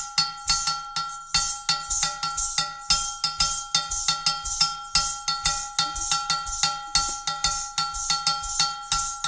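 An Agbekor bell pattern from Benin-inspired 24/8 drumming played in a 4 feel, the bell struck in a bright, ringing, repeating metallic rhythm alongside a low foot pulse, with no talking.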